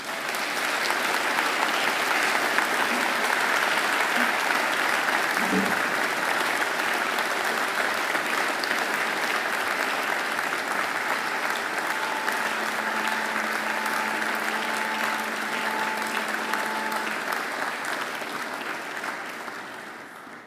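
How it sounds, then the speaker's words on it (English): Long, sustained applause from a large crowd at a university graduation ceremony, loud and dense, holding steady for many seconds before slowly tapering off. "now I invite you to give them a mighty round of applause."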